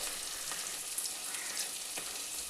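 Dried curry leaves dropped into hot oil for a fish curry, sizzling and frying steadily with brief crackling bursts throughout, close and fairly loud, with no talking.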